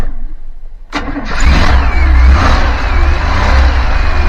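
A carbureted RV engine cranks briefly, catches and roars to life, then settles into a steady, loud, close idle with no talking.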